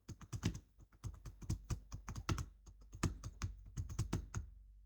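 Rapid typing on a computer keyboard while entering cell references in an Excel spreadsheet, a steady patter of close, crisp keystrokes with short pauses between bursts and no talking.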